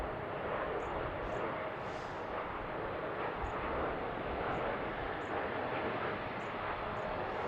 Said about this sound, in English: That's a 737-8.